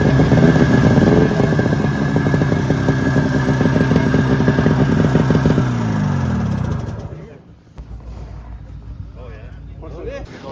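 Vintage Bombardier snowmobile with Ski-Boos skis at an antique snowmobile run in Ormstown, Quebec, its engine running loud and close with a steady rough drone, then winding down and fading near the end as outdoor ambience takes over.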